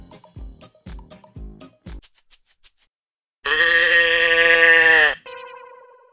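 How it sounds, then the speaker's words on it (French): A moo box phone app sounds a loud, drawn-out synthetic cow moo lasting under two seconds, preceded by a series of short clicks and tones and followed by a fading electronic tail, with no talk. "Cette application, c'est une boîte à meux."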